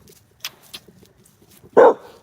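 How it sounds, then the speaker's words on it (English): A pet dog named Prince Ali gives a single loud, close bark near the end, preceded by a few faint, short yips over quiet room background. "Who are you barking at?"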